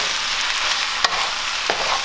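Macaroni tossed with sauce in a hot pan for a Thai-style pasta stir-fry crackles with a steady, loud sizzle, broken by two quick stirring scrapes, close and without speech.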